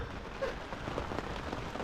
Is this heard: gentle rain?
yes